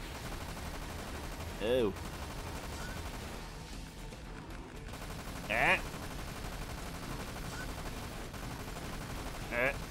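Turrets firing in a video game, a continuous crackling barrage of gunfire under game noise, with three short rising tonal effects spaced out; a voice briefly exclaims.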